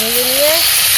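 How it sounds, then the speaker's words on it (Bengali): Fish frying in hot oil in a home kitchen makes a loud, continuous sizzle and hiss, with a brief voice-like tone rising near the start. "তুমি মাছগুলো ভেজে নাও সব"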